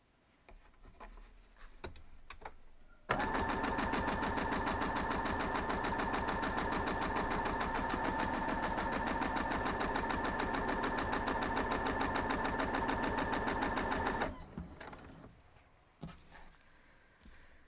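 A sewing machine stitching a quilt block runs steadily for about eleven seconds with a fast, even mechanical rhythm, framed by quieter handling noises before and after.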